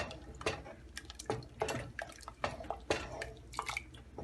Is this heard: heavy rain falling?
no